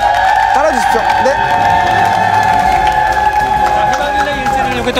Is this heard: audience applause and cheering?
yes